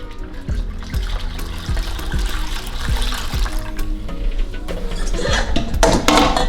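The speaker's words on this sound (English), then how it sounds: "I'm gonna sieve it one more time with the smaller sieve into the pineapple" Pineapple juice with syrup pours through a smaller sieve, making a steady liquid trickle and splash that runs the whole time, with soft clinks and taps near the start and a louder swell toward the end.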